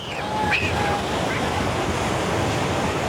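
Strong sea waves roll in at Puri beach, a continuous loud surf roar with wind buffeting the microphone throughout.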